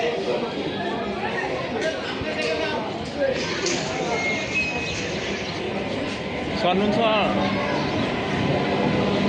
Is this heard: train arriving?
yes